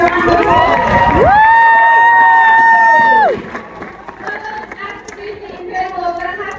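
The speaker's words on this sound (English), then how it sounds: "let's just give everyone participating here a round of applause" Crowd cheering and shouting at a dolphin show, with a long loud whistle-like tone standing out over the noise, then lively chatter and calls continuing.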